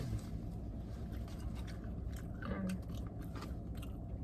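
Lemon pepper chicken drums and fish fries being chewed and bitten in a parked truck, with faint crunchy mouth sounds low under a steady background hum.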